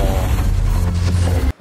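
A bomb enemy in Miitopia blows up in a heavy, rumbling game explosion that rolls on loudly for over a second before cutting off abruptly.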